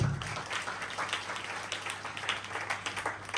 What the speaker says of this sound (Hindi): दाऊद बादशाह के लिए जोरदार तालियां बजाइए।